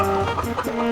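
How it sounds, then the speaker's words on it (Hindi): A hen, likely an animated one, gives a short burst of clucking close up over a steady tonal background, with no talking. "ये एक मुर्गी"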